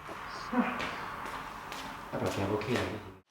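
A door is rattled and pushed in a few short knocking, scraping bursts but stays shut, heard close by with brief speech in between.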